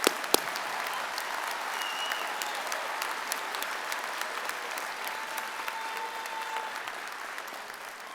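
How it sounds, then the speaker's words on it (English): Sustained applause from a large crowd at a University of Calgary fall convocation ceremony in a big hall, an even wash of many hands clapping at steady volume throughout, with scattered sharper claps standing out. "Let's get an applause for everybody."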